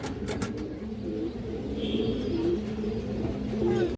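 Pigeons coo softly in a pen of fancy breeds, repeated low murmuring calls over a steady background hum with faint rustling.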